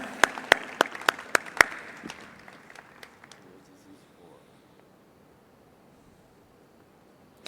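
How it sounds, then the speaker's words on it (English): A conference audience at a closing ceremony gives a brief round of applause, starting with a few sharp, distinct claps, swelling into a soft patter that fades out over a few seconds in a large room. "Give a round of applause."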